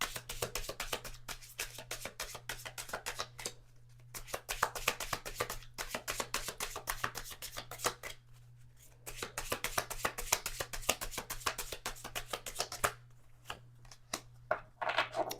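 A deck of oracle cards is shuffled by hand, repeated quick riffles and flicks in bursts with short pauses between them, close and fairly soft, with a low steady hum underneath.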